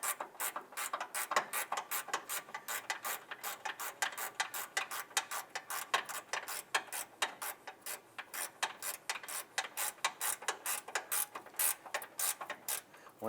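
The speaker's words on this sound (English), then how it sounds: "Once those two top bolts are tight, go ahead and tighten up the bottom bolt" A ratchet clicks in fast, repeated bursts of sharp ticks while tightening a radiator bolt on a 2011-2017 Honda Odyssey, close and fairly quiet, with short pauses between strokes.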